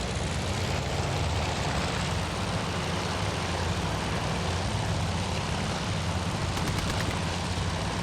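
Aircraft engines drone in the naval combat video game Task Force Admiral, a loud, continuous, dense roar with no pauses and no talking.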